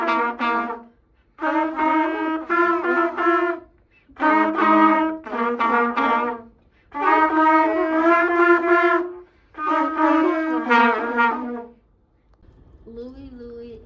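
A school band plays an ostinato, repeating short chord phrases in four bursts separated by brief gaps, clear and fairly close, with a faint lower sound at the end.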